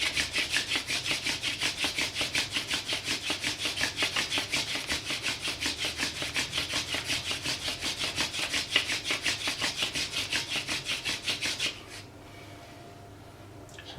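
A thin wooden spindle, spun by hand, rubs hard in a hearth board as a bushcraft fire is started by friction. It makes fast, rhythmic rasping strokes, loud and close, then stops abruptly into near silence.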